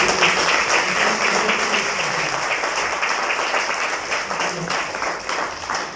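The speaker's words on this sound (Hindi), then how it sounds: "इन सभी को केवल हम ताली बजाकर धन्यवाद देते हैं।" An audience claps in thanks at a church dedication, a dense, moderately loud patter of many hands that tapers gradually across several seconds, with faint voices mixed in.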